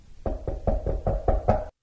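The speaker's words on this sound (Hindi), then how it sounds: "तभी दरवाजे पर तेज खटखटाहट की आवाज हुई" Loud, heavy knocking on a door: six or seven firm, evenly spaced raps in quick succession, close and alone, then stopping abruptly.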